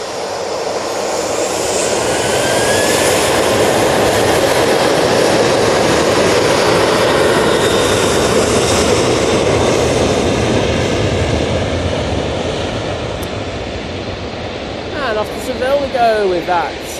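A Ryanair Boeing 737-800 jet at Manchester Airport roars loudly and steadily for the whole stretch, a broad rumble that swells then eases slightly, with brief voices breaking in near the end.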